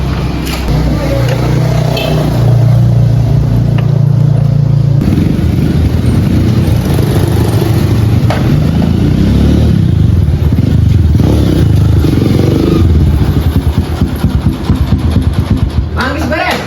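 A modified motorcycle at a repair shop runs close by, its engine rumbling and revving unevenly with mechanical clatter, while people talk over it throughout.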